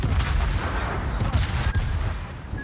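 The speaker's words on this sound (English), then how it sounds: "we can bring all the guns to bear" Cruiser Pensacola firing its main guns in the naval game World of Warships: dense, loud booming salvos and rumbling blasts that overlap continuously, with no talk over them.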